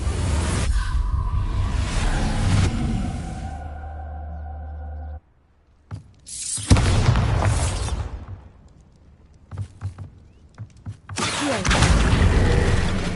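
Bombarda blasting spell in Hogwarts Legacy, a series of loud whooshing bursts with deep booming rumbles, separated by quiet gaps and some rattling debris, the last blast swelling strongly near the end.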